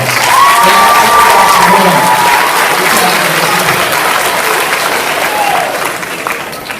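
Loud applause with cheers from a school assembly crowd of middle school students, a dense sustained roar of clapping and shouts that holds steady before tapering slightly at the end.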